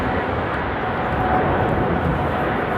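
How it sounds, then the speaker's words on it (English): An airplane takes off at Amsterdam Airport after a storm, its engine roar a steady, broad rumble that holds at an even loudness throughout, with no talk over it. "Oh, that's an early takeoff."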